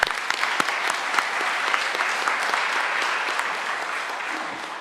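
Warm round of audience applause for a singer at a naturalization ceremony marking an anniversary, with crisp individual claps standing out over the steady crowd clapping, fading toward the end.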